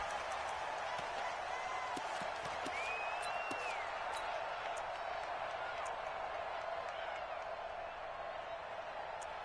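Stadium crowd noise from a PS4 American football video game, Carolina Panthers versus Philadelphia Eagles, a steady loud roar of cheering fans with no break, plus a faint brief whistle-like tone.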